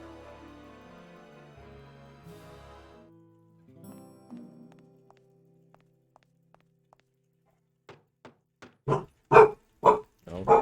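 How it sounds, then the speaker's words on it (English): A dog barks in the Grim Fandango video game, a few faint knocks first, then a run of loud, close, evenly spaced barks after quiet moments. "we got some doggo barks here"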